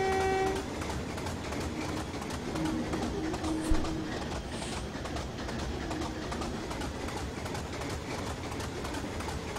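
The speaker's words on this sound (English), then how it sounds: "I love the sounds of this loco." A Class 25 diesel locomotive at the Dellyn Heritage Railway Museum in Train Simulator 2015 gives off a steady, rumbling engine drone throughout, with a short tonal toot near the start.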